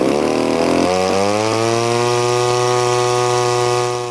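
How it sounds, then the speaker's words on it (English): Stinger gas engine on a Legend Hobby 87-inch Cherokee 35-40cc RC model plane firing up, sputtering briefly, then settling into a loud, steady, close buzzing idle. "It was no surprise the trusty Stinger engine fired right up."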